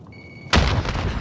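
A frag grenade detonates in Call of Duty Warzone, one sudden loud boom after a brief quiet tone, followed by a rumbling, noisy decay.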